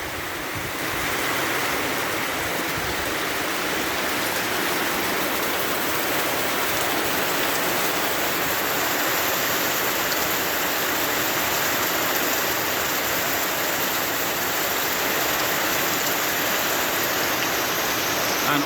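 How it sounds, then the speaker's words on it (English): Heavy rain falls steadily on a honeybee yard in the early morning, a dense, even hiss that carries on unbroken throughout with no voices. "And although it's raining like that,"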